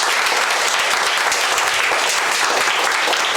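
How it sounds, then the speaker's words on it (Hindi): A church congregation at a Sunday service claps loudly together in dense, sustained applause, steady and close throughout with no pauses. "और मिलकर जोरदार ताली बजाएंगे प्रभु के लिए।"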